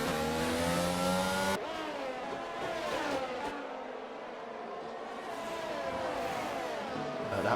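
Ferrari race car engine revving hard as it accelerates past, a loud sustained high-pitched whine with shifting gear tones, cutting briefly before climbing again.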